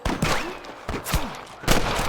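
Gunfire in the Western video game Red Dead Redemption, with several sharp shots cracking out in a quick, uneven sequence over a busy background of game noise.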